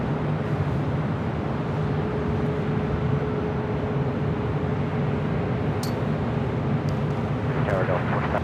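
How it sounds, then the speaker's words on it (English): An Alaska Airlines Boeing 737 MAX 9 takes off from LAX, a sustained, steady jet engine roar heard from a distance. A commentator talks over it throughout. "Next takeoff on the south side is Alaska Airlines in the San Francisco Giants livery, heading to Seattle to 737 MAX 9"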